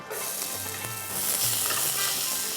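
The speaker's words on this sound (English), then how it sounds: "and we're going to saute it" Onion sautés in oil with black peppercorn, black cardamom, bay leaf and cinnamon for chicken shorba, a close steady sizzle that swells louder midway with light stirring.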